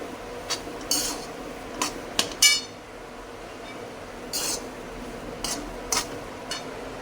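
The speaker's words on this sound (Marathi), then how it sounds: "ह्याच्यानंतर व्यवस्थित असं मिक्स करून घ्यायचं आहे कारण की जो वेलचीचा फ्लेवर आहे तो ह्याच्यामध्ये मिक्स झाला पाहिजे" A metal spoon scrapes and clinks in a pan while carrot halwa with cardamom is stirred at home. Several sharp, scattered knocks and scrapes stand out over quiet room tone.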